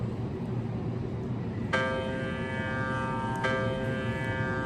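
Two clear notes, both C, ring out from a digital piano, each sustaining over a steady background hiss, thin and small as played through a mobile phone speaker.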